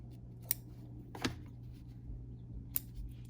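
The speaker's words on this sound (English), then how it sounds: "That's off screen, but you can imagine what cutting thread looks like." Scissors snip thread on a freshly sewn fabric face mask, giving three short, crisp cuts spaced apart against a quiet room hum, with no talking.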